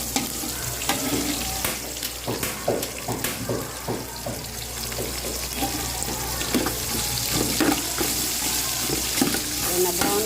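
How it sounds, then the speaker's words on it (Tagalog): Onions sautéing in a pan for a mixed vegetable guisado, a busy sizzle with repeated scraping stirs and clatter of a utensil, close and continuous. "igisa na tayo ng sibuyas"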